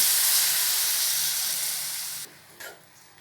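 A loud, broad hiss of steam and sizzling as a quarter cup of water hits a hot pan of frying mango, gradually fading, then cutting off sharply, with a brief clatter near the end.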